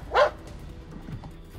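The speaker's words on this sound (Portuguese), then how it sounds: "O latido indica que ele encontrou" A rescue dog lets out one sharp bark close by at a search site, then low whimpering and shuffling follow.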